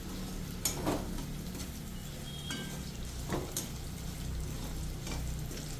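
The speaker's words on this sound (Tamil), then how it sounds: "அந்த வெண்ணெயும் இந்த டோஃபுவும் கொஞ்சம் நல்லா மிங்கிளாகிற மாதிரி வணக்கினோம்னா போதும்" Tofu sautéed in butter in a pan gives a soft, steady sizzle with occasional light stirring scrapes, quiet and close, with no talk.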